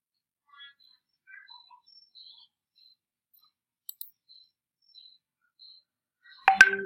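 A computer mouse gives two quick, sharp clicks in close succession, faint against near silence. Scattered small chirps come before them, and a louder clattering burst follows at the very end.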